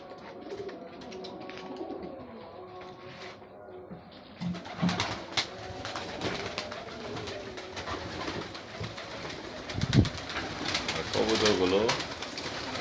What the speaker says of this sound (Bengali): অনেক কবুতর পালা হয়।